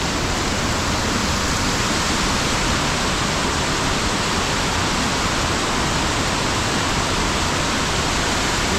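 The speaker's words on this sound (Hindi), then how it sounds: "खूबसूरत सा झरना भी आ रहा है ऊपर से" A waterfall pours down from above in the Himalayan hills, a loud, steady, unbroken rush of water close at hand with no voices.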